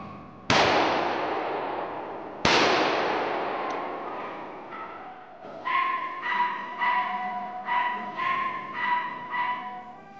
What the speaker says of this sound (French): Coup de carabine.